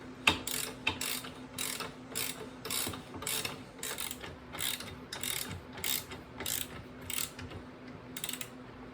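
A hand wrench ratchets a bolt on a DIY winch mount for a four-wheeler ATV, giving a steady run of crisp, close clicks in short bursts with no talking.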